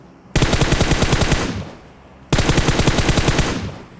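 Two loud, rapid bursts of automatic M4 rifle fire in PUBG Mobile, each lasting just over a second with a fading tail, separated by a short pause.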